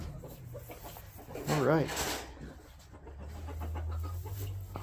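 Chickens cluck in a coop being readied for cold weather, one brief close call standing out amid quiet rustling and low background noise, with a person speaking briefly.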